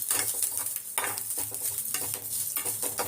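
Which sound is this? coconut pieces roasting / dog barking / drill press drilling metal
coconut pieces roasting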